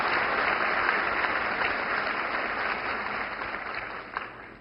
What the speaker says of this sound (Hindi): तालियों की गड़गड़ाहट से हम माननीय प्रधानमंत्री का स्वागत करेंगे